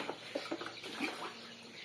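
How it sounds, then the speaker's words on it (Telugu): Water poured out onto the ground of a village yard during daily chores, a steady broadband splashing wash with a few brief sharper spatters, fairly faint and alone. "ఇక్కడైతే వాటర్ వేసుకుంటున్నాను"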